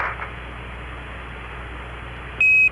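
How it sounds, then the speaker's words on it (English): Apollo 9 spacecraft master alarm, a short steady electronic tone that starts near the end, loud and alone over a constant hiss of radio background noise. "he just got a master alarm, it's the X2 tank, no problem."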